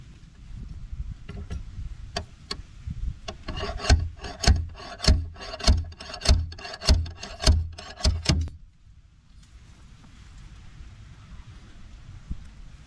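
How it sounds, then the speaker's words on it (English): A hammer works a pull tab on a dented Jaguar body panel, giving a series of sharp metallic clacks that grow into a steady, rhythmic pounding before cutting off abruptly, leaving a faint hiss. "I've got a hammer that I can pull back on that tab to attempt to pull the dent out a bit."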